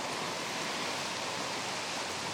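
Floodwater from an overflowing creek rushes onto a highway in a flood zone, a steady broadband roar of moving water with no talk over it.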